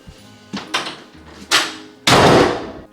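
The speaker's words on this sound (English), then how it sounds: "Close the door!" A door bangs shut at home: a few soft thumps and knocks build to one loud, full slam near the end, close and alone without speech.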